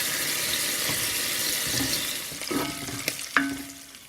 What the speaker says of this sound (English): I've now browned off my bacon bits.